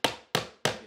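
Three sharp, evenly spaced hammer blows drive a final nail into tongue and groove wooden flooring, each strike ringing briefly and decaying fast; close and loud with no talk.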